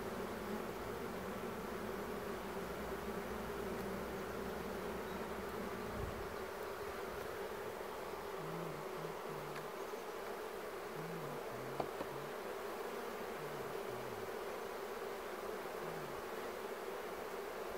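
Honeybees hum in a dense, steady drone at an open hive during hiving and placement of a super, continuous and fairly close, with faint low rumbling beneath.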